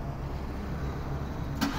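A car engine starts and settles into a steady, muffled low hum in Oman, heard fairly close with a brief sharper burst near the end and no talk.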